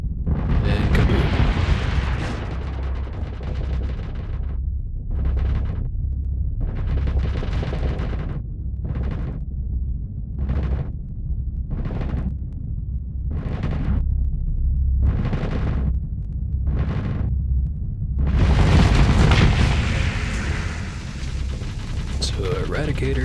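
A ship blows up in the space combat game Starsector: a long, loud roar of booms and rumbling blasts, with a row of rhythmic pulsing bursts and a big swelling explosion near the end, a voice talking over parts.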